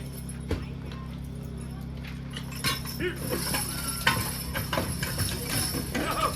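A team of two harness horses walks in at a lightweight horse pull, with clip-clop hooves and clinking harness over steady outdoor rumble while people talk in the background.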